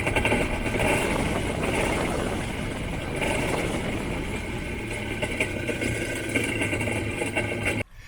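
A personal watercraft engine runs steadily at idle with a constant rumbling drone, cutting off abruptly near the end.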